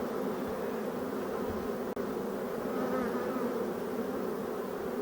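Steady, dense buzzing of a honeybee colony being installed into a hive at a new apiary after a spring split, continuous and close, with one brief click partway through and no talk.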